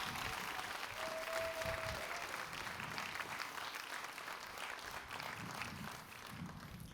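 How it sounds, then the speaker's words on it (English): Audience applause and cheering at a college hospitality center ribbon cutting ceremony, a dense, steady wash of clapping that runs the whole stretch with a brief whistle near the start. "let's shout out and applaud for her loud enough so she hears it over at Canyon Ranch"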